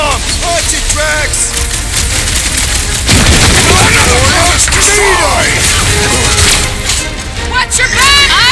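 A smart bomb blast booms out in Marvel's Guardians of the Galaxy, a loud broadband burst about a third of the way in that rolls straight into continuous gunfire and combat clatter, with characters shouting over the fray.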